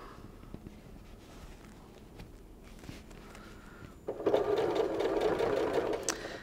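A sewing machine stitching quilt binding at a longer stitch length: quiet handling and faint clicks at first, then a loud, steady mechanical whir of stitching near the mic.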